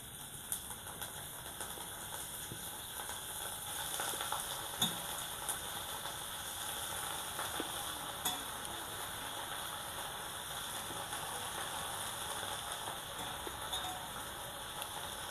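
Amaranth leaves frying in hot oil with asafoetida, giving a steady, dense sizzle close by that holds evenly throughout with faint stirring clicks.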